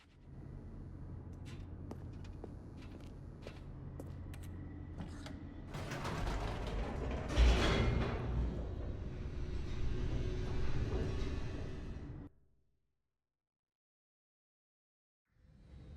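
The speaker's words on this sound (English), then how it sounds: "The elevator raced downward, plummeting towards an unknown fate." Elevator plunging downward in The Stanley Parable, a steady mechanical rumble with creaking and sliding grinds that swells and rattles toward the middle, then cuts out abruptly into silence before a brief return.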